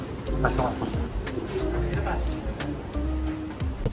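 Pigeons cooing in a racing pigeon loft with separated hens, soft repeated coos close by under someone talking throughout.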